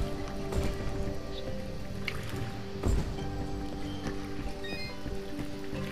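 Water running and dripping in the video game Dust: An Elysian Tail, a continuous trickling flow with scattered drips and splashy squishes, plus a soft musical tone underneath.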